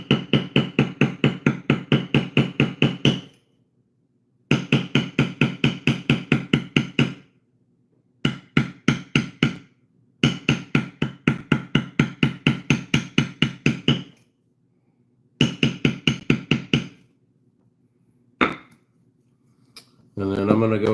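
A mallet strikes a bevel stamping tool on leather while tooling a leather target, a rapid even run of sharp taps in several bursts with pauses between, close and clear.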